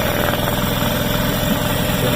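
The outboard motor of a restored Don Hill driftboat idles while running in a test barrel, a loud, steady, close chugging hum with a faint vibrating rattle throughout.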